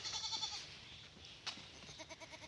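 Goats bleat repeatedly in a farmyard during morning feeding, several short calls in quick bursts at the start and again near the end, with a brief knock between, close and moderately loud.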